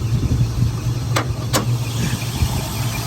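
A 1970 Ford Mustang convertible with a 302 two-barrel V8 and C4 automatic runs steadily with a low, even engine hum, plus two brief sharp clicks partway through, close by with no voices.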